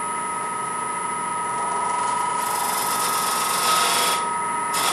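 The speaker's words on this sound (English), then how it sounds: "Now for this, I'm going to switch to a very narrow parting tool." A very narrow parting tool cuts into wood spinning on a lathe while turning a salt shaker, giving a steady, close whirring hiss with a brightening scrape toward the end of the cut.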